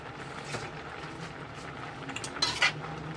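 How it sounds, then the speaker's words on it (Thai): A spoon scrapes and clinks lightly against a pot while skimming foam off a simmering coconut-milk taro dessert, with soft bubbling underneath and a couple of sharper metallic taps near the end. "ต้องค่อยค่อยช้อนฟองฟองที่เขาขึ้นมา ช้อนออกเลยไม่ต้องเก็บไ"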